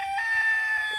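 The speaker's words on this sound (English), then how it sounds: "listening to roosters crow" A rooster crows in a long sustained call, fairly loud, with no talking over it.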